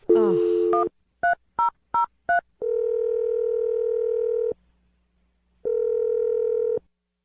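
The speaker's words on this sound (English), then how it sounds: "let's dial the phone number" A short buzzy tone, then four quick touch-tone beeps, followed by two long ringing tones separated by a pause.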